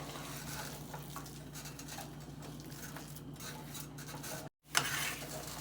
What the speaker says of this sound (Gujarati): સરસ રીતે મિક્સ થઈ જાય એ રીતે આપણે કરીશું માવો બધા બટાકાના ની અંદર ચટણી મિક્સ થઈ જાય